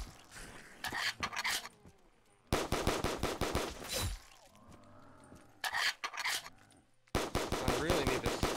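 Gunfire from a gun in a custom zombies video game, heard as loud bursts of rapid automatic shots separated by short lulls with faint game sounds between them.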